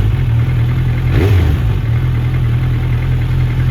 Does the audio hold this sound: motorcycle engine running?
yes